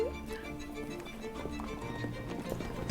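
Hooves clip-clop at a steady riding pace, fairly faint amid a busy background of music-like tones and ambience, with no clear talking.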